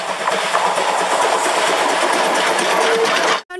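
Steady mechanical rattling and whirring of a small toy train running continuously, loud and close, stopping abruptly at the end.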